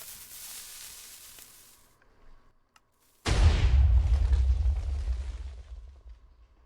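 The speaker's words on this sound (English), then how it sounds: "Pretty much all of these dispensers spit out TNT that launches all of these TNT, and it can go really far and spreads out everywhere." TNT launched from a dispenser-based cannon in Minecraft, heard as a quiet fizzing lead-in, a near-silent gap, then a sudden loud blast that rumbles and crackles on for about three seconds before tapering.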